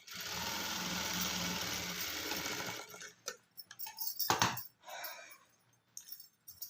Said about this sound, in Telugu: నెక్ను కూడా ఇలా స్టిచ్ చేసుకోవచ్చు